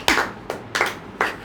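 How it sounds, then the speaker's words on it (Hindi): Hand claps from an audience at a lecture, four loud, separate claps spaced roughly evenly, close by and with no talking over them. "ताली बजाने का मौका मिले तो इससे एकदम बजाओ"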